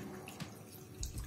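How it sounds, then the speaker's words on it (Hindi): Water poured into a pot of mutton with ginger and garlic for Peshawari namkeen gosht, a soft, continuous rushing splash at low level throughout the brief moment. "और इसमें पानी शामिल कर देंगे।"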